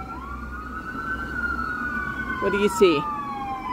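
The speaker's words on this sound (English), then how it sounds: "That one was an ambulance, buddy." An ambulance siren wails steadily in the distance with a long sweeping tone, while a voice speaks briefly over it near the end.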